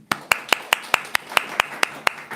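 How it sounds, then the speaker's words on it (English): A small group at a daily scripture class claps slowly in unison, roughly ten crisp, evenly spaced claps in a steady rhythm, fairly close and moderately quiet. "we can clap for you"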